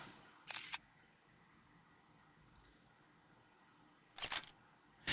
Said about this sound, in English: Got the camera rolling, clicks.